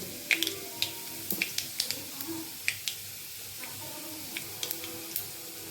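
Garlic frying in a pan until lightly browned, with a soft continuous sizzle and scattered sharp crackles and pops, quiet and close with no talking.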